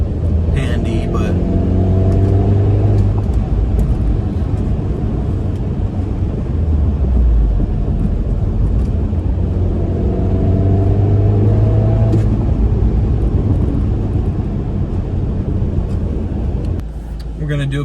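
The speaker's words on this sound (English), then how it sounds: "we're gonna do a quick little acceleration here" A 2013 Mini Cooper S R56 in sport mode pulls hard with rising engine tones that sweep upward in two separate acceleration runs, heard from inside the cabin as a steady loud drone with gear changes between pulls.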